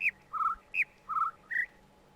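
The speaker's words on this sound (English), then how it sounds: "The two birds are talking over each other." Two game bird calls from The Witness overlap and alternate: high whistled chirps trading with lower warbled trills, five short clear bursts in about two seconds, close and distinct with no talk.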